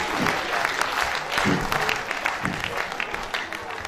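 An audience at a management lecture gives another round of applause, dense hand-clapping filling the hall steadily, with a few voices faintly beneath.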